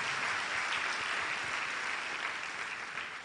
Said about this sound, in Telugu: ఒకసారి గట్టిగా చప్పట్లు కొట్టి ప్రభునామను మహింపరుద్దాం